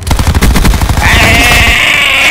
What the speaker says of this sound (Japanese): 今、伝説のうがいですよ、皆さん。